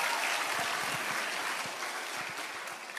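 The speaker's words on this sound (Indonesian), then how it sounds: "Jadi tolong berikan tepuk tangan kepada saya." A crowd claps in steady, fairly faint applause at a talk, with a dense patter of hands that fades slightly over a few seconds.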